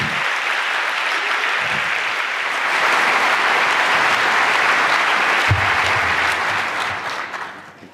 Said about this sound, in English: Please welcome, with an anniversary edition, applause, Chris Gerlinsky.